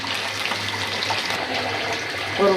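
Steady rush of water pouring into a pot of browned beef curry, continuous and fairly close, with a brief clatter near the end.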